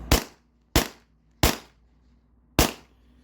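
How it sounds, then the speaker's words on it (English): Four sharp, loud snaps ring out at uneven intervals as a Beeman air pistol is dry fired, each crack decaying quickly into near silence. "I'm just gonna dry fire this a couple times"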